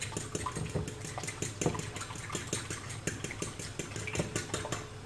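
A fork or whisk beats two eggs in a bowl, a quick run of rhythmic clinking and tapping strokes against the bowl, close and moderately loud with a faint wet slosh.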